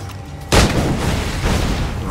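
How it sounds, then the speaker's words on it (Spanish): Gunfire in the Assassin's Creed IV Black Flag video game: after a quiet moment, a single sharp, loud shot bursts out, followed by a sustained rumbling echo and further dull blasts. "Con el chip pego tiros desde aquí."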